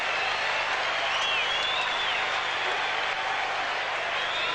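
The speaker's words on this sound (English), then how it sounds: "Crowd enjoying that one. They haven't had too much to cheer for Australia for in this match." Spectators at a 1978 Australia versus England cricket test applaud and cheer after a boundary, a continuous hiss of distant clapping and crowd noise with commentators talking over it.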